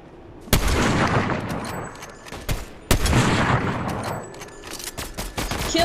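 Bursts of video game gunfire during a first-person shooter match, with two sharp loud shots and rapid follow-up fire over a dense, continuous layer of battle noise.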